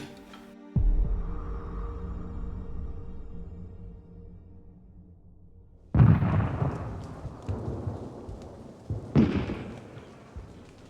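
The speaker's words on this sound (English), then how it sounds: "The rumbling of the cannons hasn't stopped for a second" Distant WWI artillery cannons rumbling, a low boom followed by a long rolling rumble, then heavier booms and crackling blasts further on, moderately loud and unaccompanied by voices.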